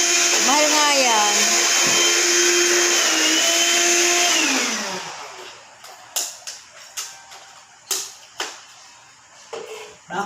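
A vacuum cleaner whines loudly and steadily for several seconds, its pitch shifting, then winds down and stops, leaving a few sharp clicks and knocks.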